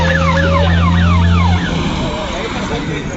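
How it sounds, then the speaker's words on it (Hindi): An ambulance siren at an SSC GD physical test 5 km running event, a loud wailing, rising-and-falling tone close by with a steady horn-like drone, fading after about a second and a half into outdoor noise and traffic. "लास्ट में देखिए एम्बुलेंस।"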